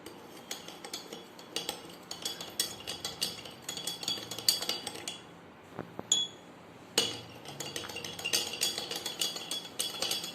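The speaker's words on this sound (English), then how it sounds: "We will stir both the mixtures." Spoons stir powdered and granulated sugar in glasses of water, making rapid close metallic clinks against the glass in steady bursts, with a brief pause midway before the stirring resumes.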